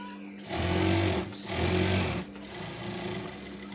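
A sewing machine stitches the side seams of a lace dress in two loud steady runs of rapid mechanical whirring. A pause separates the runs, and a lower motor hum continues afterward.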